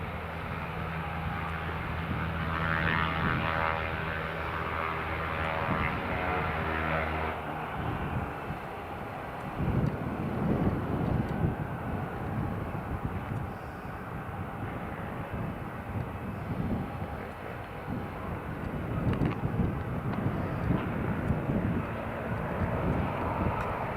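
A Ryanair airliner lines up on runway 07 at Newcastle Airport, its jet engines giving a steady whining hum for the first several seconds, then a broader, continuous rumbling roar from a moderate distance.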